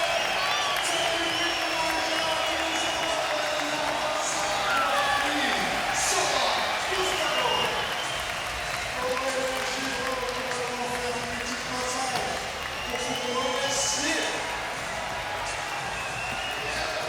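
A hometown crowd at an SLS street skateboarding final in Paris roars and cheers after a win, a loud, steady wash of voices filling the arena while a commentator talks excitedly over it.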